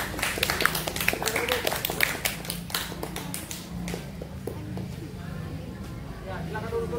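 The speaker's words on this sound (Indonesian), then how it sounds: "Baik, tepuk tangan buat temannya." Primary school classmates clap for a student during a floor gymnastics lesson: a quick burst of many hands clapping that tapers off after a few seconds, with children's voices chattering throughout.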